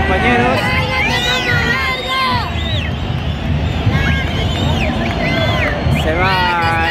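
Loud stadium crowd at a football match as a sent-off player leaves the pitch, a thick roar of voices with whistles and shouts rising above it, continuous throughout.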